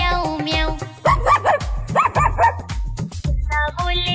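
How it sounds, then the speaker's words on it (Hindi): Cartoonish dog barks in a Hindi children's nursery rhyme come in two quick clusters of short, yappy barks, set over bright, bouncy backing music. "कुत्ता बोले भौं भौं"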